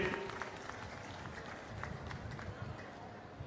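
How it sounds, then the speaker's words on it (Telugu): An audience at a Chandrababu public meeting claps in a faint, steady patter of applause that holds evenly throughout, with a voice audible over it. "గట్టిగా చప్పట్లు కొట్టి అభినందించండి"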